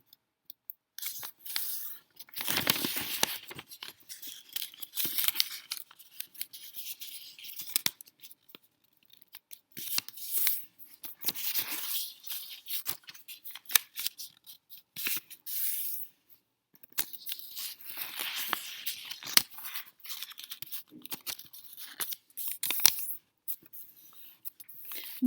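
Sheets of origami paper creased and folded corner by corner to make a fortune teller, giving crisp rustles and soft sharp creasing bursts that come and go close by throughout, with no one talking.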